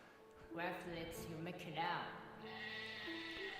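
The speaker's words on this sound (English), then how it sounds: "What is this crazy walk-up music? It's like a sheep." Walk-up music at a combat sports match with a bleating, sheep-like sound, heard as two loud wavering calls over steady music and crowd noise.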